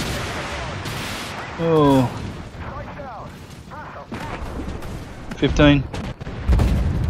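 Gunfire and explosions crack through a video game battle involving a K21 vehicle, with bursts of shots and booms scattered throughout while a player talks over the fighting.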